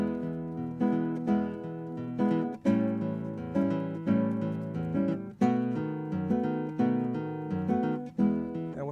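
Fingerstyle guitar accompaniment moving through a 1-4-5 chord progression, with pinched downbeats and syncopated offbeat chords in a steady rolling rhythm, played up close with no talking.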